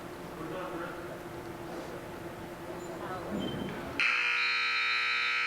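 An electronic buzzer sounds loud and steady at a high school varsity wrestling match, marking the end of the first period, after a stretch of gym crowd noise.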